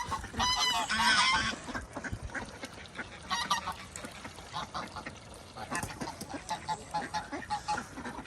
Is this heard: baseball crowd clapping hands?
no